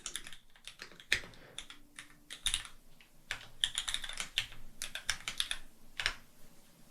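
Fingers type on a computer keyboard while coding in Xcode, producing close, irregular bursts of crisp key clicks with brief pauses between runs and no talking.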